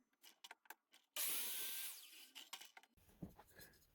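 A miter saw recuts a small wooden star piece: a loud, close blade whine and cutting burst lasting about a second, framed by quiet clicks, handling knocks and shuffling of the wood.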